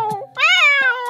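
A small cat meows once, a clear, rising-then-falling cry that sounds close and loud, preceded by a short soft chirp.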